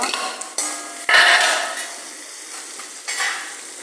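Ginger and onion hit hot oil, bursting into loud sizzling with scraping and stirring of a pan between, the frying swelling and easing across several strokes; no one speaks.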